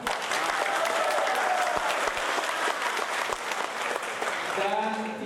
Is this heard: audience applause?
yes